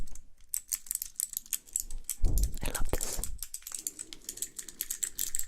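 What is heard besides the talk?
tapping keycaps on ASMR trigger device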